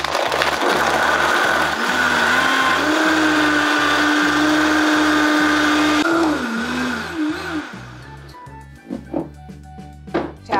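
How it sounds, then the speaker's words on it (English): A blender running on high whirs loudly with a steady motor whine while blending a vegan coconut milkshake, then winds down and stops, leaving a few clunks and rattles. "we're going to turn it on high until it's creamed"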